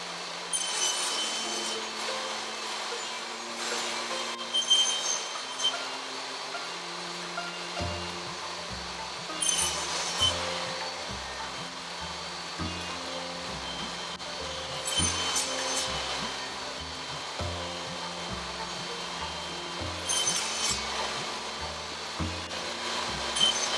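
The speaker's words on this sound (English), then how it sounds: "I finished the cut on the table saw using the cross-cut sled." A table saw with a cross-cut sled cuts wooden stock for a mortise-and-tenon work table, making four roughly evenly spaced loud bursts of cutting noise over soft background music.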